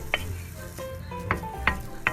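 Minced beef sizzles steadily in a hot pan without oil while a utensil clicks and scrapes against it a few times, close and fairly loud.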